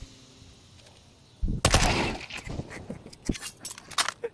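Bursts of gunfire in a first-person shooter game, starting suddenly after a quiet lead-in, with loud rapid shots crowding together and then sharper separate cracks near the end.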